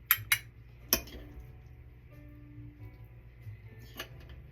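A few sharp spoon-on-dish clinks as mango salsa is scooped into a smaller dish, then a quiet stretch and one more clink near the end, with no talking.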